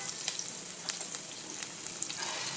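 Mustard seeds and cut garlic sizzle in hot oil with a steady hiss and small scattered pops and crackles, close and unaccompanied by speech.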